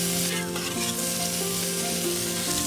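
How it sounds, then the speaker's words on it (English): Steady, loud sizzling of scallops frying on a hot griddle, continuous with no talking. "Let them sizzle on the other side and cook through and through."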